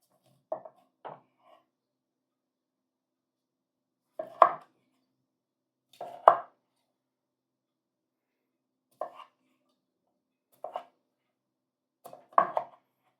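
Knife chopping a lemon into small pieces on a cutting board: sharp close knocks in short clusters of two or three, separated by pauses of a second or more, with no talk.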